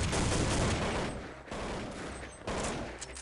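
Gunfire in Counter-Strike 1.6 comes in three dense, loud bursts of rapid shots, each cut off abruptly before the next begins.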